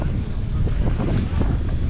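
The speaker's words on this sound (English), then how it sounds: "Yeah, it's windy, it's breezy," Strong wind at Venice Beach buffeting the microphone, a continuous loud low rumble with gusty swells throughout.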